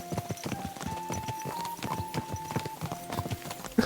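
A horse's hooves clip-clop steadily along a road in Kingdom Come: Deliverance 2, a brisk, continuous rhythm of close, hollow knocks over a faint tonal hum.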